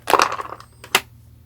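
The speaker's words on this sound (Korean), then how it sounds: "이렇게 얼음을 이제 좀 넣어주시고" Ice cubes clatter and crunch as they drop into the water tank of a small mini air cooler, a close burst of knocks followed by a single clink.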